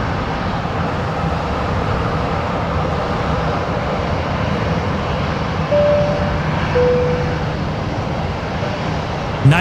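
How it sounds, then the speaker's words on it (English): A Qantas 737 jet bound for Perth roars steadily on the runway at Brisbane Airport at night, a broad, continuous engine rumble with a voice talking over it. "Right now we've got the Qantas 73 lining up, heading to Perth tonight, Qantas 941."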